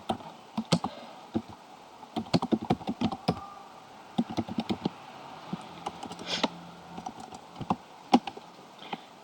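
Commands typed on a computer keyboard at a Cisco router's command line: irregular bursts of crisp key clicks with brief pauses between them, close and fairly quiet, with no voices.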